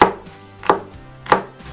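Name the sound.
dicing bell pepper with a knife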